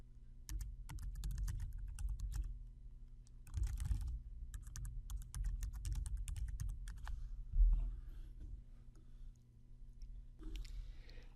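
Typing an article name on a computer keyboard, heard as quiet, rapid bursts of clicking keys with short pauses between, close but faint over a low background hum.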